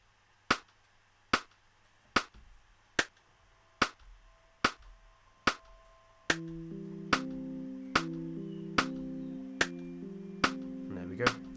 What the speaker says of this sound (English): we're just going to have a click going right the way through